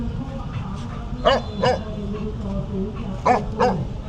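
A dog barks in low, gruff bursts, two pairs of barks spaced apart, mid-distance over steady background noise at a gym area in Patong, Thailand.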